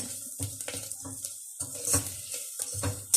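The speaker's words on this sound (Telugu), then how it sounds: "ఉల్లిగడ్డ ఇంకొంచెం ఉల్లిపాయలు ఫ్రై అవ్వాలి" Onions frying in a pan for a bottle gourd and moong dal dish, with soft sizzling and intermittent clinks and scrapes of a spoon stirring against the pan, close by and fairly quiet, no talking.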